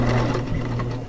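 A sewing machine stitching down the elastic casing on a serged cloth diaper, giving a brief, close, steady mechanical whir with rapid needle clatter.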